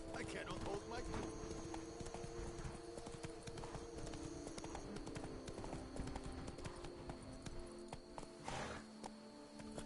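Roach the horse gallops in the Witcher 3 game, with rapid rhythmic hoofbeats running throughout under game music and voices talking.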